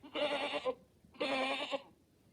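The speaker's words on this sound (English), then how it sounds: "This is a goat." A goat bleats twice, two loud nasal wavering calls of about half a second each separated by a short pause, close and clear with no talk.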